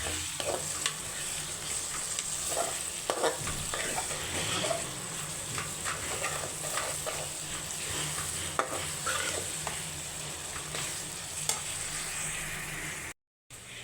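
Chopped onions with a little salt sizzle steadily in a pan, heard close with a soft continuous hiss and scattered crackles and stirring clicks, no voices.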